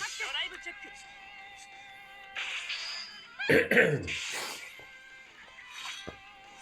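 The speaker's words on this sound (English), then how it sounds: "Sneezing and coughing and kerspluttling all over the place here" Coughing and sneezing bursts break out amid ongoing talk during a card game match, with the loudest cluster midway, a sharp close fit surrounded by lighter throat noises.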